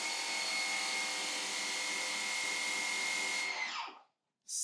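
A steady, loud electric motor whine from an electric pressure washer with a high tonal hum runs close by for several seconds, then winds down to silence before a brief hiss returns.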